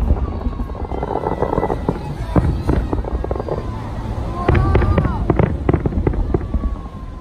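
National Day fireworks burst in a series of sharp cracks and booms, some with whistling trails, with a crowd murmuring throughout.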